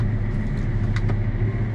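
A Claas Axion 930 tractor pulling off, its engine a steady, loud low rumble heard close up from the cab, unchanging across the short stretch with no talk.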